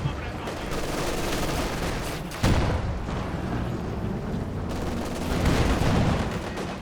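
Anti-tank guns firing in a Company of Heroes 2 two-versus-two match, a sharp heavy blast standing out from a steady layer of battle noise, with further gunfire rumbling afterward.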